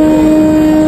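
An express train at Bardhaman station sounds a loud, steady horn blast, close and very brief.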